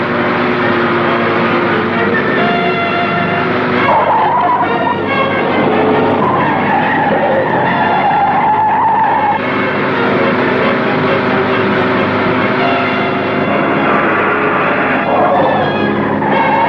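In a chase from a 1958 Hindi film, a speeding car roars loudly and continuously, with a long tire-skidding squeal rising out of the engine noise, and no talking is heard.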